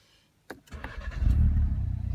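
A Ford Focus RS starts with a brief starter crank, then catches and swells into a loud, rumbling idle that holds steady. No voices.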